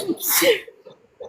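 A single sharp sneeze bursts out close by, followed by a few quiet vocal sounds.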